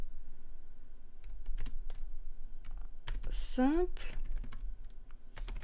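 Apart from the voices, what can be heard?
typing a prompt to ChatGPT on a computer keyboard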